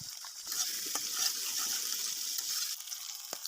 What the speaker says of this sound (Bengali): এবার এটাকে ভালো করে কষিয়ে নেব